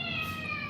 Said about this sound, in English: So this is my large cat,